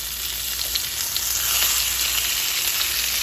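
Chicken pieces for Hawaiian chicken fry steadily in a pan on the stove, giving a continuous close sizzle with scattered crackles and pops and no talking.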